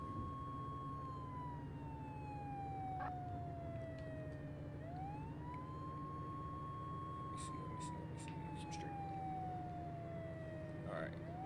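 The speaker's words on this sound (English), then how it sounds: "As you can see, the ambulance just went past me." An ambulance siren in the Flashing Lights emergency-services game wails and sweeps past, its pitch falling as it goes by, then rising again and falling once more, loud and steady over a continuous engine rumble.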